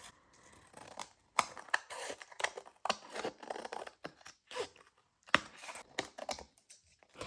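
Scissors trim excess paper from a dried junk journal page, making a quick series of crisp, close snips and rustles with short pauses between cuts and no talking.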